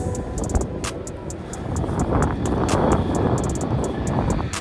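A tram rumbles past steadily with broadband rolling noise and rhythmic clicking over the rails, while strong wind blows through the scene on a street in Istanbul between Gaziosmanpaşa and Mecidiyeköy.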